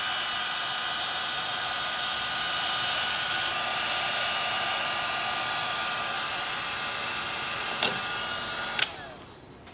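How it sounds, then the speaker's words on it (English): A heat gun blows hot air in a steady, loud whoosh with a faint high whine, used on a wood-turning project; the hum holds for several seconds, two brief clicks follow near the end, and the blower then starts to wind down. "Use a heat gun."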